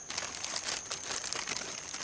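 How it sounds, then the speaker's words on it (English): Items being packed into a plastic bag to keep them dry, giving a soft, continuous crinkling and rustling with small crackling bursts, close and fairly quiet. "I'll put all this stuff into this plastic bag so that it stays dry"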